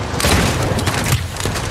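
Boomstick shotgun gunfire from the Paladins video game, a loud dense barrage of booming blasts that fills the short burst without any clear speech.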